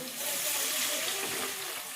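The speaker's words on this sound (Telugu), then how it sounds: "ఇక వాటర్ వేసేసుకుందాం." Water poured into a cooking pot of red lentils, chana dal and urad dal with salt, a steady broadband splashing pour lasting about two seconds, fairly close and unbroken.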